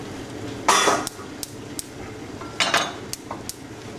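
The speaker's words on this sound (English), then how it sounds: "Give that a stir." Freshly diced tomatoes get stirred in a cooking pot, making a few loud metallic scrapes and clanks of a spoon against the pan, spaced irregularly over a quiet background, with no talking.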